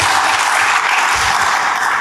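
A church congregation breaks into dense, steady applause, a continuous wash of many hands clapping at moderate volume without a break.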